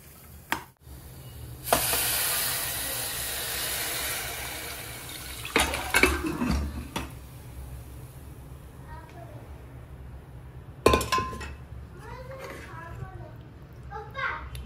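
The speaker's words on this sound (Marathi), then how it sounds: "आता त्याच्यात उकडलेलं मटण घालते." Boiled mutton added to fried masala in a pot for biryani, with a long loud sizzling hiss followed by scraping stirs and clanks of a spoon on the pot, while someone talks in the background.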